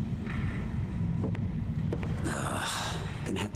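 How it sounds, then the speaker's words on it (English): Wind blowing in a VR horror video game, a steady low rumble with hissing gusts swelling toward the end, with a few faint clicks layered over it. "Very windy."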